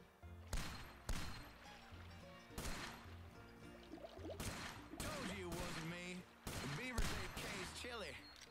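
Gunfire aimed at beavers in a Duck Dynasty video game, a series of sharp loud shots in uneven bursts at a beaver dam boss fight, with game music and effects mixed in.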